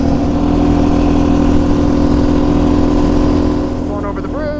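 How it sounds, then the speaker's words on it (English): Yamaha Raptor 700 ATV engine running steadily and loud up close with a slight sputter, its drone easing near the end as revs drop. "It's sputtering a little bit."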